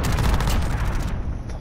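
Cruise missile strike in Call of Duty: Modern Warfare multiplayer, a loud, close burst of explosive rumble and crackling gunfire-like blasts lasting about a second before tapering off.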